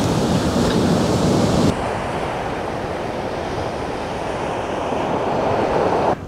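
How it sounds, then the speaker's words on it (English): Rough sea surf along the South Welsh coast, a loud continuous wash of breaking waves with gusty wind buffeting the microphone and a sharp drop in intensity partway through. "It's such a rugged sea,"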